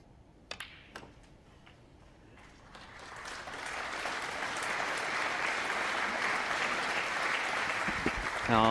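A snooker crowd at the Masters applauds, starting with a few isolated claps that swell into sustained, even applause lasting to the end.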